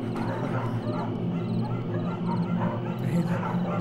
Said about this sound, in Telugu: నీకేం కావాలి నీ కుక్కే కదా